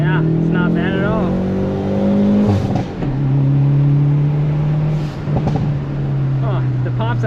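A 2020 Hyundai Veloster N with a manual gearbox revs up and shifts, its engine note rising in loud sustained tones with brief crackles, while people talk over it inside the cabin.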